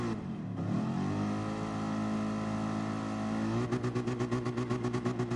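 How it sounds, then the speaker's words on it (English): A race car in the Nurburgring 24-hour race of a racing video game holds a loud, steady engine drone, then revs in quick rhythmic pulses before a rolling start, with no talk over it. "Someone's revving away."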